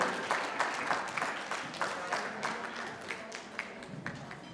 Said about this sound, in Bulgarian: Още веднъж ви моля за вашите аплодисменти.